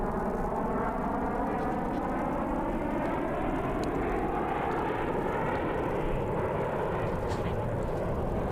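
USAF Thunderbirds jets roar overhead during a Pacific Airshow performance at Huntington Beach, California. The loud, sustained engine rumble slowly shifts in pitch as the aircraft sweep past.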